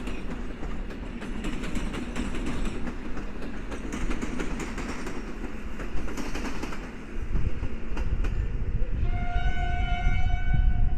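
A Koleje Mazowieckie EN57 electric multiple unit train runs past at a Polish station, a steady rolling rumble with rail noise throughout, growing louder near the end as faint high squeals appear.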